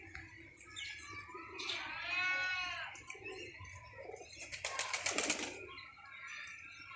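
Pigeons on a rooftop coo faintly at a distance, followed by a brief flurry of wing flaps, over a steady outdoor background with a voice now and then.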